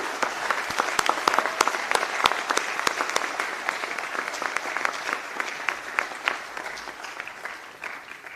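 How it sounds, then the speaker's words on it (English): An audience at a school graduation ceremony applauds the teachers, a dense burst of clapping from a sizeable crowd, loud at first and slowly thinning as it goes on. "Can we have a round of applause for the teachers and the school?"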